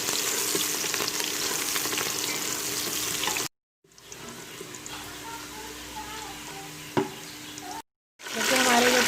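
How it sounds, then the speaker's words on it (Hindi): Onions fry in hot ghee, stirred with a spoon, making a dense, loud hissing sizzle that runs continuously with brief cuts and one sharp scrape of the spoon, with no one speaking. "अब हम इसमें प्याज शामिल कर देंगे। प्याज में अच्छी तरह चमचा हिलाते जाना है।"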